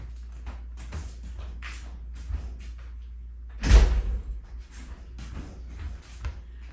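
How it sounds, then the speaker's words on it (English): A dog pushes open a back door and comes inside: soft shuffling and rustling, then a firm door thump midway, followed by lighter movement noises, with no talking. "My dog knows how to open the back door, and he just came in"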